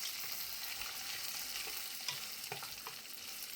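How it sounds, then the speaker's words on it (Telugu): Dried red chillies fry in oil with a soft, steady sizzle, fairly quiet and close, broken by a few light clicks and stirring taps toward the end; no voices. "ఇందులోనే ఎండుమిరపకాయలు, దీన్ని కూడా మంచిగా ఫ్రై చేసేసుకోవాలి."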